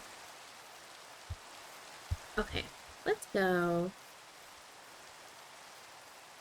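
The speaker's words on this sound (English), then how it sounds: "Oh, it's raining again." Rain falling in the Minecraft video game, a faint steady hiss running throughout beneath a few soft clicks and a brief spoken phrase.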